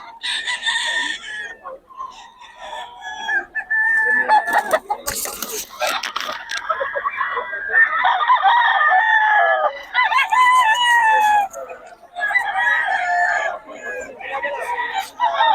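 Roosters crow repeatedly and loudly while hens cluck throughout, a busy chorus of overlapping fowl calls close by in Bocaue, Philippines.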